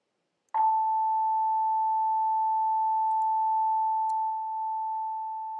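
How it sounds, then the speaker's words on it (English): A single pure, steady sine wave tone from a Pure Data oscillator starts abruptly after a click and holds unwavering, loud and alone, fading slightly toward the end. "It sounds like a beautiful, beautiful sine wave."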